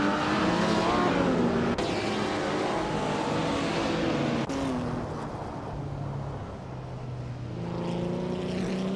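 A 1957 Ferrari 250 Testarossa racing car engine roars steadily at close range, its pitch rising and falling through gear changes across the whole stretch, with a brief dip in the middle before it swells again.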